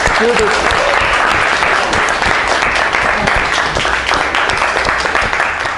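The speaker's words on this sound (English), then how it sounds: "Please clap for everyone." Loud, sustained applause from a crowd at a travel quiz event fills the whole stretch without a break, with some voices mixed in beneath the clapping.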